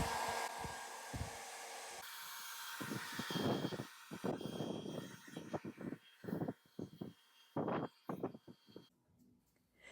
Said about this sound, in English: I'm going to blow dry it just in case any dye ekes while it's air drying